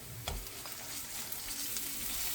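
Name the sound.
butter sizzling with browned garlic in a pan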